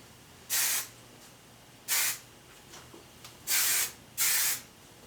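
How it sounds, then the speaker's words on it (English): Hairspray misted onto hair before curling, heard as four short, crisp aerosol bursts spaced apart, with near silence in between. "kind of lightly misting all of your hair with your hairspray"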